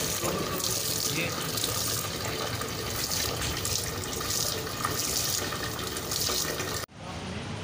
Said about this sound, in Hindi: पानी डाल दिए, प्रॉपर कर उसको।